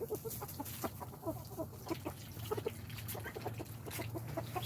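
Chickens and roosters cluck in a covered barnyard in the morning, a dense overlapping chorus of short clucks and calls, close and continuous over a low background rumble.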